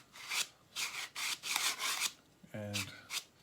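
A wooden wing joiner slides in and out of its close-fitting wooden box, giving several short rasping, rubbing strokes in quick succession, with a brief voice breaking in partway through.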